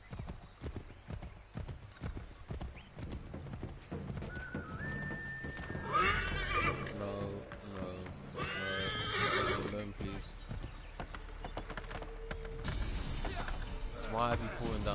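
Horse hooves clip-clopping and repeated neighs from Assassin's Creed 3 gameplay, with someone talking over the game sounds throughout.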